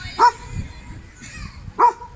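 Two sharp dog barks spaced well apart, close by, with faint background noise between them.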